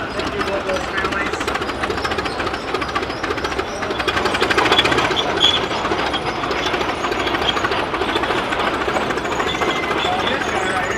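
A 1926 tractor, owned by one family since new, runs at a steady rapid chug at an outdoor pioneer day event, its rhythmic engine beat continuous and fairly loud with crowd noise around.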